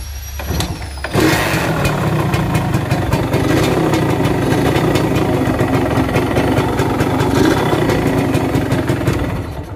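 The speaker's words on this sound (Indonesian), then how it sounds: "Ini mulai ngelotrok mesinnya ya. Kita coba hidupkan lagi guys." A Suzuki Satria two-stroke motorcycle engine starts with a burst and settles into a loud, steady idle carrying a rapid rattling knock, close up and with no talk over it.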